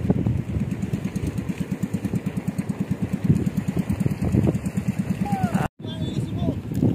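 A small boat engine, restarted after stalling, chugs in a steady rapid pulse close by, with voices talking over it and a brief cutout near the end.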